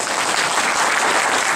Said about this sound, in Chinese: 也请大家用一个小小的掌声来